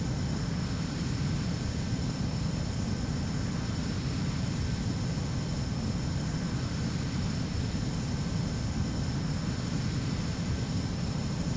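Fighter jet from Ace Combat 04 on final approach to landing, a steady, loud, broadband engine roar that holds evenly throughout with no breaks.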